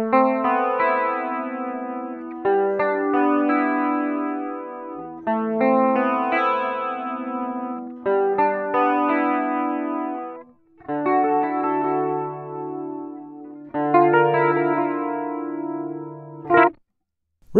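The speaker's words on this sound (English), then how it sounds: "this is an analog chorus that's the five knob type of analog chorus" Electric guitar run through the NuX Cerberus pedal's five-knob analog chorus, playing strummed chords and arpeggiated phrases with a shimmering, wavering tone, several phrases separated by short pauses, no talking.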